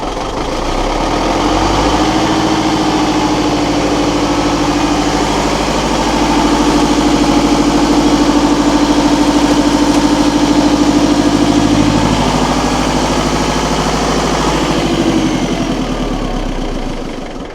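A hand-primed engine being started for a second time, then settling into a steady, loud idle that rumbles continuously close by with a slight swell midway and no voices.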